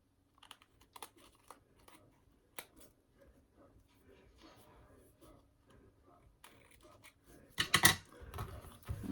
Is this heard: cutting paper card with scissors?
yes